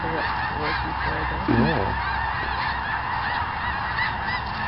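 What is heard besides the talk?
honking snow geese and Canada geese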